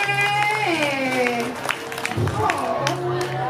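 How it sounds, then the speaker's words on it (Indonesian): Audience applause at a comedy performance, a broad wash of clapping and crowd noise beneath a voice, which keeps going over it for the whole stretch. "Iya, tepuk tangannya."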